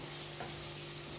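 Crushed ginger and garlic sauté in a pan for an egg noodle dish, giving a faint, steady sizzle under soft stirring.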